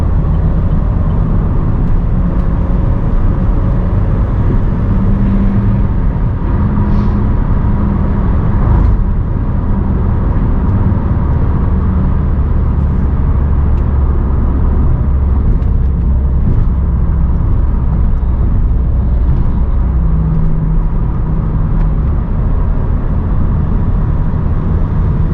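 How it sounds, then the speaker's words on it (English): Steady loud road rumble of a fast-moving 2011 Volkswagen Jetta on a highway trip toward Bangalore, a continuous low drone of engine and tyre noise with no voices. "So I just found a really fast going Volkswagen Jetta."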